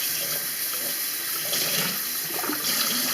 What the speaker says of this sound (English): Maybe I'll rinse this off and wipe it again